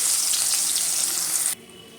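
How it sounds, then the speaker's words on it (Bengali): Onions hit hot oil in a pan where rohu fish was just fried, giving a loud, dense, close sizzle that holds steady and then drops sharply to a quieter hiss near the end. "এবারে পেঁয়াজ দিয়ে দেবো।"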